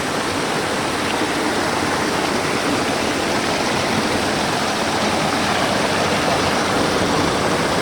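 Manikmoyo waterfall pours clear, cold water down into a forest stream, a loud, constant, broadband rushing roar that holds steady throughout with no voices or other sounds.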